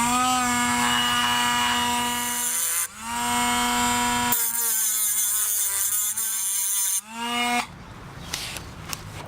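Grinder cutting down the rivet head on a motorcycle chain of a Kawasaki Versys X 300, a loud, sustained high-pitched whine in several bursts with brief dips between passes, close up and without talk.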